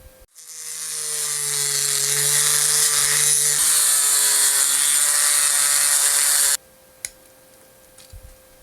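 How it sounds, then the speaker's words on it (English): A Dremel rotary tool cuts a slot into a plastic toothbrush: a steady, loud high-pitched whine and grinding that runs for about six seconds, then stops abruptly, leaving a couple of faint clicks. "I'm gonna take the Dremel and just cut a slot down about to there"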